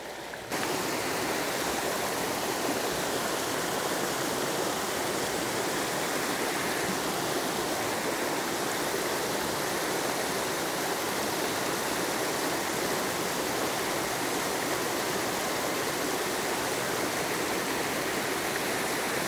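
Low river water flows steadily over smoothed, carved stone, a constant broadband rushing hiss with no distinct breaks, moderately near and alone without talk.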